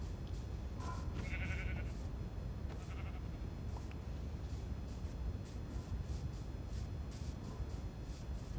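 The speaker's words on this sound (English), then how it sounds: "Ooh, another sheep." Several short sheep bleats from Minecraft PE sound over a steady, noisy background hiss, a couple of calls close together early on, then quieter ones.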